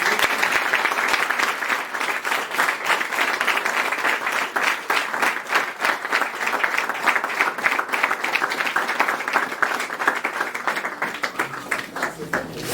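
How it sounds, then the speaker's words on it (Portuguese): A church congregation applauds at a Portuguese-language service, a dense, sustained burst of many hands clapping that goes on steadily for the whole stretch and sounds close and loud. "As palmas para Nosso Senhor Jesus."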